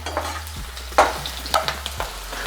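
Onions lightly frying in a pan while being stirred, a soft steady sizzle broken by a few spoon scrapes and taps.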